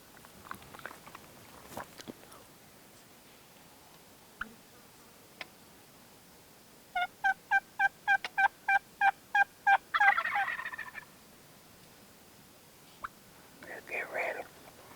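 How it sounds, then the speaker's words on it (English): Wild turkeys gobble in a field during a hunt: a quick burst of about ten rhythmic, rattling gobbles in a row, moderately distant, with soft whispering and scattered small clicks around them. "They're gobbling, they're strutting, they're covering ground, and they're coming to us."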